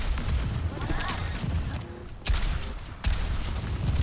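Pharah's Barrage ultimate in Overwatch fires a dense, continuous volley of rocket blasts during a FACEIT NA Masters match on Lighthouse. The explosions run loud and steady, broken by two brief dips, while a caster talks over them.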